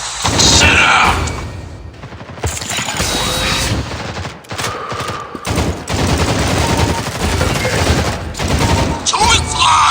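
Dense automatic and rapid gunfire from a Critical Strike team deathmatch game, loud and nearly continuous with bursts and booms, brief gaps, and occasional game voice lines underneath.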